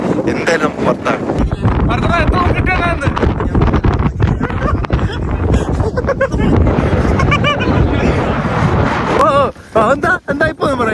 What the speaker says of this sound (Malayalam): നമ്മളാണ് ഈ മലയുടെ മണ്ടയില് ഈ കാറ്റ് കണ്ടോ